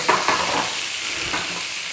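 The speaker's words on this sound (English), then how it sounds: "Now we've got that nice bit of a sizzle going on in there" Burger patties sizzling loudly in a pan, a close crackling hiss with a couple of scraping knocks near the start.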